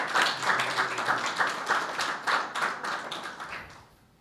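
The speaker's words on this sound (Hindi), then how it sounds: "यीशु के लिए तालियां बजाएं जोरदार।" A congregation at a Palm Sunday church meeting claps loudly in a fast, rhythmic beat, many hands together, close and full, before the clapping trails off and fades near the end.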